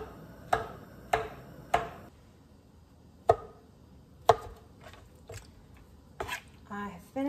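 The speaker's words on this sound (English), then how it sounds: "Finished chopping up this first batch of the fresh, well, unfrozen tomatoes." Fresh tomatoes being chopped for canning, a handful of sharp knife strikes on a cutting board spaced about half a second apart, followed by scattered softer kitchen knocks, fairly quiet.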